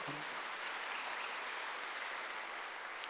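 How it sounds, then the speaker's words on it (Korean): Congregation applause during a Wednesday church service: a steady, uniform wash of clapping lasting about three seconds with no voices over it. "박수로 하세요."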